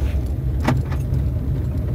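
Chevrolet Onix 1.4 2014 automatic car pulling away in D as the brake is released, a steady low engine rumble with a brief light jingle of keys partway through.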